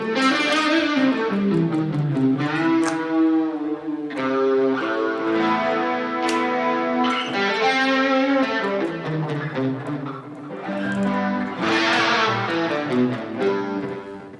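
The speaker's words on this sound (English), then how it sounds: "And of course, you could use a little bit of a drive." Electric guitar through an Axe-Fx 3 amp model with drive added, neck humbucker on a Harley Benton Fusion 2, playing sustained chords and lines with a moderately distorted, effected tone, steady and close throughout with no talking.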